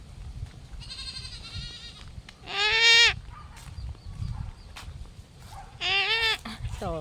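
Goats on a family farm bleat in two loud, wavering calls, one near the middle and another toward the end, with fainter bleats earlier over low outdoor rumble.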